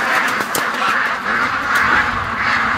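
Ducks quack in a steady, overlapping chorus outdoors on a windy day, with gusts of wind noise running underneath and a few sharper calls standing out near the start.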